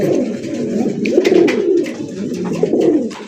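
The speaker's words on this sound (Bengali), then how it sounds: "চমৎকার একটা ঝর্ণা শাটিন কবুতর, এটার কড়ি বলেন, এটার কালার বলেন, সাইজ বলেন এবং ডাক বলেন ভাই" A Jharna satin pigeon coos close and loud in repeated throaty rolling calls, with no voices.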